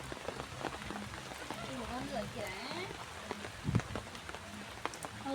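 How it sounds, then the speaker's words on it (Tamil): Steady rain falls around a rural home on a windy day, a dense even patter lasting throughout, with a louder drop or splash near the end and voices talking over it. "மழை விடுற மாதிரி தெரியல"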